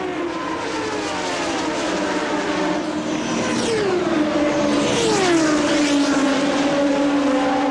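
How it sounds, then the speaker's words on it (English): IndyCar race cars at the 1992 Indianapolis 500 roar past as the field accelerates back to racing speed after the pace car pulls off, with loud sustained engine noise and rising and falling pitch sweeps as cars pass close by. "Michael Andretti leads the field down as we go back up to racing speeds at the Indianapolis 500"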